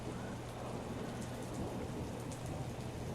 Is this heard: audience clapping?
no